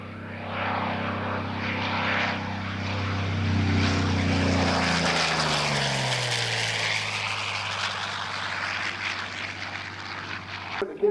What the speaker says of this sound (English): Thom Richard in the P-40 American Dream